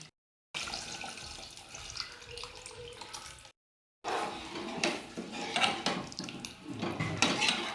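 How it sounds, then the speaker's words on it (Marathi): Mutton stock soup poured into a pan of fried masala, a steady liquid splashing and gurgling with a brief pause midway, then a louder stretch of pouring with light clinks of the pan. "आता हे आळं सूप पूर्ण टाकते मी"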